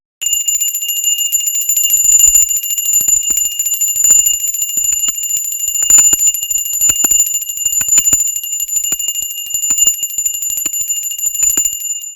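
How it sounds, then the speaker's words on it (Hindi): A bell rings continuously and steadily for the whole stretch during Janmashtami worship for Laddu Gopal, bright and sustained, with a faint clattering underneath and no voices. "हम घंटी भी बजा सकते हैं"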